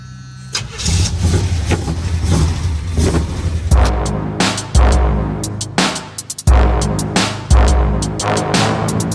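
A Chevy K-30 Square Body truck with a swapped small-block engine turns over and roars up in a string of loud, close revs. Each burst climbs and then falls away before the next.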